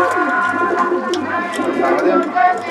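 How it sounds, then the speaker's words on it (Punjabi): Malwai pigeons coo with repeated throaty pulses, close and fairly loud, while someone talks over them. "ਮਲਵਈ ਕਬੂਤਰ ਪਿਓਰ ਮਲਵਈ"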